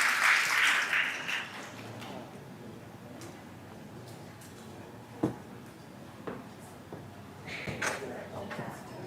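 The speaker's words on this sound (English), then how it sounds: "Please give him a big round of applause once again" An audience applauds a speaker after a poetry reading at a formal ASEAN ceremony. The clapping swells at the start, fades into room noise and scattered sounds, then rises briefly again near the end.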